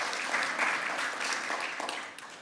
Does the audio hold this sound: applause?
yes